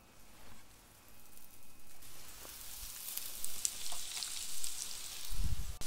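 Beef meatballs made with oatmeal fry over medium heat in olive oil in a pan, giving a steady soft sizzle that builds gradually, with a dull low thump near the end and no talking.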